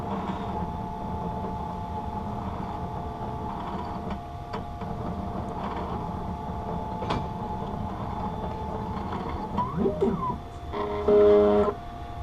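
An eyeglass lens edger hums steadily as it measures and cuts a prescription transitions lens for Ray-Ban 9052 Junior Wayfarer frames, with faint clicks and a brief whirring motor burst near the end.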